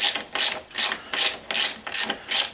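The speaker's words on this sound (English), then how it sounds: "this is where I'm going to need an 8mm wrench" An 8mm wrench ratchets on a motorcycle brake reservoir cover, clicking in about six quick, evenly spaced bursts, close and fairly quiet with no talk.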